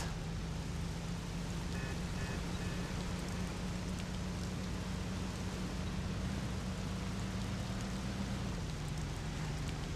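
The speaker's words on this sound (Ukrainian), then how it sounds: "Дощ капає." Steady, dense in-game rainfall in the video game Mafia: The City of Lost Heaven hisses evenly throughout with a faint low hum beneath, no voices.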